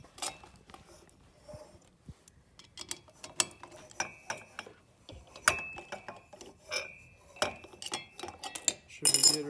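Ratchet clicking as mounting bolts are tightened on a Baja Designs Squadron Pro light on a 2014 Ford Raptor, with bursts of close metallic clicks and small clanks repeating irregularly through the clip, no talking.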